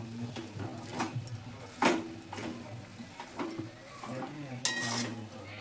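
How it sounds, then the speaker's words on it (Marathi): Faint spoon scraping and clinking against a pan while vegetable samosa filling is stirred with coriander, with soft irregular clinks and a few sharper knocks, and quiet background sounds. "आता त्याच्यामध्ये कोथिंबीर टाकून चांगली अशी हलवून घेऊया."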